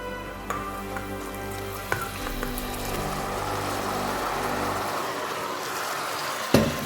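Chopped eggplant dropped into hot orange-tinted oil in a frying pan, setting off a loud, dense sizzle that crackles steadily, with a couple of sharp clinks of utensils against the pan.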